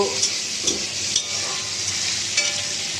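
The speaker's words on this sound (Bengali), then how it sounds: "আমড়াগুলোকে তো ভালো করে কষে দেবো" Hog plums (amra) stir-fried in a pan, giving a steady bright sizzle with soft periodic scrapes of stirring, close and continuous with no talking.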